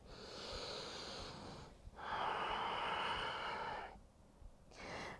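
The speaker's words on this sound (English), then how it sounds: "Listen to the sound of your breath." Slow, soft breathing during a yoga forward fold, with long airy inhales and exhales in separate breaths and short pauses between them, close and quiet with no talking.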